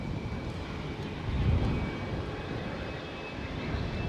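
An American Airlines jet airliner departs Edinburgh airport for Philadelphia, a steady low engine rumble that swells slightly midway and stays fairly distant, with no voices.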